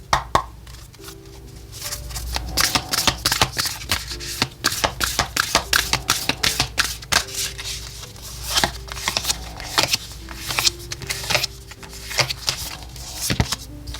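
Oracle cards shuffled by hand: a close, continuous run of crisp flicks and soft slaps with an uneven rhythm over a faint low background hum.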